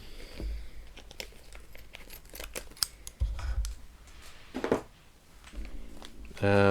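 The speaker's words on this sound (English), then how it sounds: "you're going to need some scissors to gently cut the packet open" Scissors snip and crinkle through a plastic parts packet for a 1:8 scale Ford Falcon XB GT model, close up, with scattered cuts, rustling plastic and a louder crinkle toward the end.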